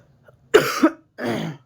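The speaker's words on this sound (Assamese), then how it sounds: "সৰি বাৰু কোল্ড কাহ হৈ আছে" Two quick, harsh coughs close up, then a longer, rougher cough after a short pause, with quiet in between.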